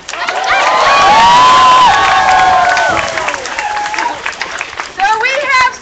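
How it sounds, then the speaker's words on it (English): A rally crowd in San Francisco cheers loudly and applauds, with shouts and whoops swelling and then easing over about six seconds, close and dense, with scattered voices rising above the noise. "They're cheering for Hartman!"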